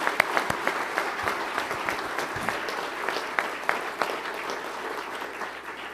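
Sustained audience applause at an Arkansas economic development announcement with the governor, steady dense clapping filling the room with sharper individual claps standing out, moderately loud and continuous throughout.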